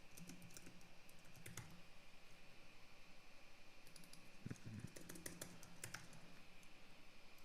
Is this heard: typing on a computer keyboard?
yes